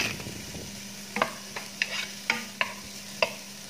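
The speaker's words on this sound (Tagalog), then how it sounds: "So, gisa-gisa na lang tayo hanggang sa maging brown sila." Fennel and garlic sautéing in a pan for a seabass and tomato stew: a soft sizzle under a series of sharp, irregular utensil clacks against the pan, close by, with no talking.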